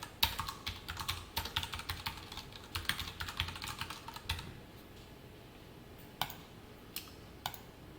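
Typing on a computer keyboard while writing JavaScript code, with close, quick clusters of key clicks for about four seconds and then a few sparse isolated taps in a quiet room.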